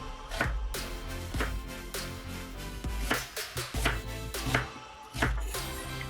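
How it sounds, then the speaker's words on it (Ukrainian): A knife chops an onion of about 150 grams into coarse pieces on a cutting board, a series of close, sharp thuds in an uneven rhythm, some strokes in quick clusters and others spaced apart. "Одну цибулинку вагою приблизно 150 грамів нарізаємо досить грубими кусками."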